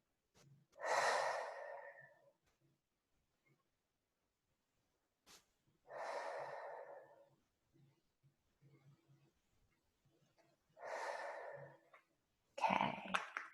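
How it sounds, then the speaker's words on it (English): Slow, deep breaths during a guided breathing exercise, with three long drawn inhalations or exhalations spaced several seconds apart and quiet gaps between them, then a sharper breath at the end, close and alone with no talk. "So go ahead and breathe."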